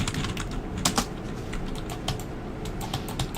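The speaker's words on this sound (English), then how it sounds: "Stop typing." Rapid clicky keystrokes on a computer keyboard during a League of Legends session, irregular bursts of close, crisp taps over a low background hum, with no talking.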